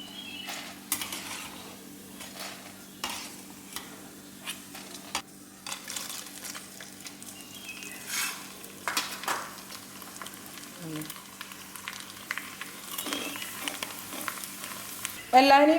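Leftover rice kondattam, crisp Kerala rice crackers, frying in hot oil, with a steady low sizzle, occasional stirring clinks and scrapes, and a louder clatter at the very end.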